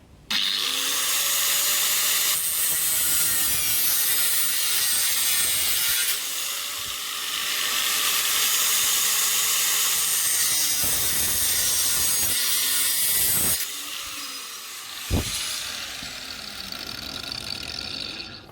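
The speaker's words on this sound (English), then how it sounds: "I'm just going to use an angle grinder. Not really the correct tool for the job, being aluminium" An angle grinder cutting aluminium, a loud, sustained whining grind that shifts pitch as it bites, with brief pauses and a sharp clank near the end.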